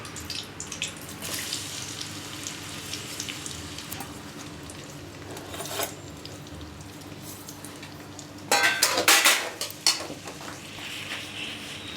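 Onions sizzling in a pan while cooking for chicken pulusu, a steady frying hiss in a kitchen, with a louder burst of clattering and sputtering near the end, no talking.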